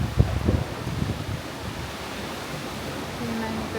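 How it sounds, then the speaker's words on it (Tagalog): Strong Typhoon Uwan wind roars as a steady, loud broadband rush with heavy buffeting against the microphone, gusting harder at the start before settling into a constant blast. "Ganito kalakas ng hangin."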